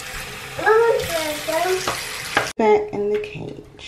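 Fresh water pours into a parakeet cage in a splashing, trickling stream, with a person talking over it and brief bird chirps.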